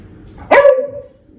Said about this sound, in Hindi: भौंक क्यों रहे हो आप उसको?